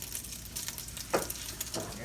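Chicken sizzles in a skillet over rising heat, giving a close, steady frying hiss with a few brief stirring or shifting sounds and no talking.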